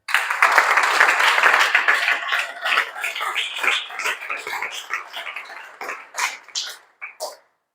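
A church congregation claps and cheers loudly in acclaim to God, the applause dense at first and then breaking into scattered, fading bursts before stopping.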